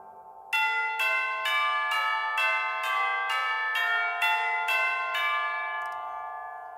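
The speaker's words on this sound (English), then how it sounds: "Obviously, the tubular bells." Tubular bells ring out in a Christmas song, about nine evenly spaced, loud, bright strikes over a sustained backdrop, each ringing on and the last ones fading away.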